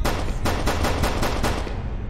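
Rapid automatic gunfire from the Skibidi Toilet horror video game, a steady burst of evenly spaced loud shots lasting about two seconds, close and alone with no talk.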